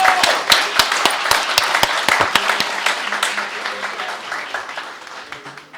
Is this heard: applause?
yes